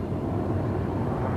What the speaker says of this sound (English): we can see one of the Marine helicopters approaching Magazine Beach right now